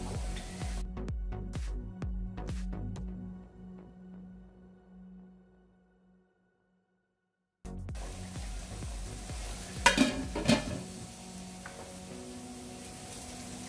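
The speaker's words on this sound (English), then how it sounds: "so I am adding spice into it and giving it a good mix" Minced mutton kofta with spices is stirred and fried in a pan for Hyderabad-style biryani: scraping and clattering at first, a moment of near silence, then a soft sizzle with a burst of louder utensil clanks.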